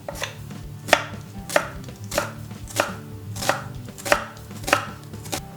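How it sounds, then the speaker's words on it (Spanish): Spring onion being cut into julienne strips on a board, with sharp, evenly spaced knife chops about every half second, close and clear, and no talking. "Cortamos la cebolleta en juliana."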